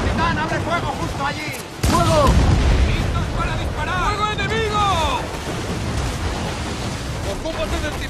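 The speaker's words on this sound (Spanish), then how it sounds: "¡Listos para disparar! ¡Fuego enemigo!" Ship cannons fire during a naval battle in Assassin's Creed IV Black Flag, with one heavy boom breaking in amid the battle noise while crew voices shout loudly over the din.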